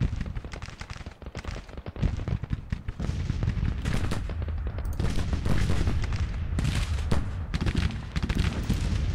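Civil War battle gunfire in the strategy game Grand Tactician: Civil War, a dense and continuous roll of crackling musket volleys and booming shots over a low rumble, loud throughout with no voices.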